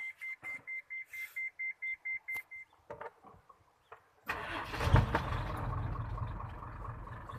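A dump truck engine cranks and catches, then settles into a loud, steady idle. A short run of regular electronic beeps comes first, and there is no talk.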